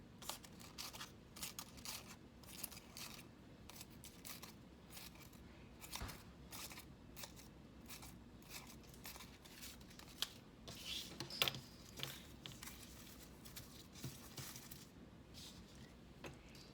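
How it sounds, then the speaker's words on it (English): Scissors snip paper repeatedly, making short inward feather cuts along the edge of a Thanksgiving paper corn craft; quiet, close, irregular clicks and slices with no talking. "I can just make feather cuts into it, just cutting inward."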